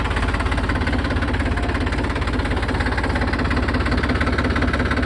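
A 2023 Eicher 480 45 HP tractor engine idles close by with a rapid, even diesel chug and a constant low throb, steady throughout with no talk.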